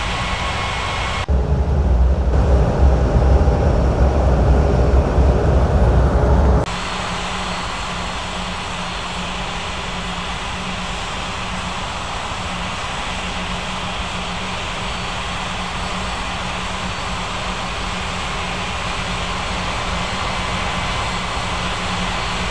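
A fixed-wing aircraft rolls for takeoff on runway 18 at a regional airport, a loud engine roar building briefly then settling into a sustained steady drone that continues without speech.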